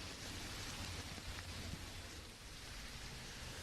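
Heavy monsoon rain falls in Mumbai as a dense, continuous hiss of drops on surfaces, faint and even throughout with no voices.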